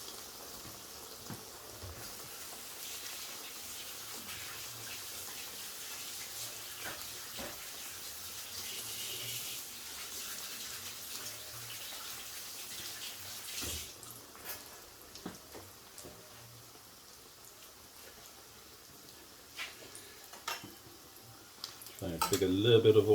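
Tap water runs steadily over fingers during cooking of chicken katsu curry, a faint, even wash of noise with a few small clinks and a louder clatter near the end.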